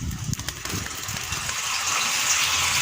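Water gushes steadily from a water pump hose being fitted to water vegetables. The rushing flow is loud and close, with a few clicks and knocks at the start before it settles into an even stream.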